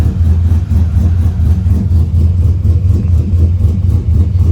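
A truck's deep 6.2 V8 engine rumbles loudly and close, pulsing in rapid rhythmic throbs as it idles and revs in a steady, heavy drone.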